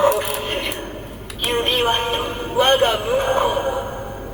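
Electronic sound effects and chimes from a DX Tega Jun sword toy from No. 1 Sentai Gozyuger, several short bursts at close range, mixed with faint talk.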